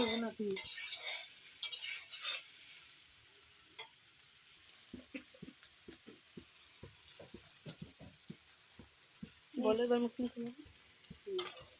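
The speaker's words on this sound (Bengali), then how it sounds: "পনিরের মশলা সম্পূর্ণ কষানো হয়ে গেছে" Paneer masala with potato and peas being stir-fried in a pan, soft sizzling under intermittent spatula scrapes and clicks, with brief bursts of talk near the start and end.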